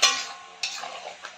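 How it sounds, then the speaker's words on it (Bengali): Meat braising with potatoes in a pot gives off sizzling and stirring clatter, with a few sharp spoon knocks against the pot, close by. "মাংস কষানো হচ্ছে।"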